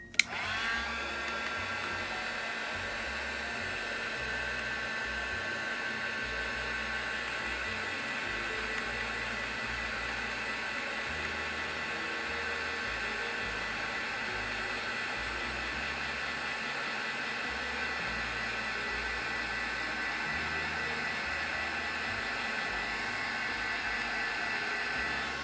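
A hair dryer blows steadily over wet watercolor paint, a constant even whoosh that runs unbroken for the whole stretch at moderate volume, with no voices.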